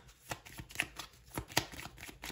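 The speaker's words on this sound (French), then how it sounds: "je vais tirer les cartes" Tarot cards being shuffled by hand, with soft papery riffles and flicks in uneven bursts, close and quiet, with no talking.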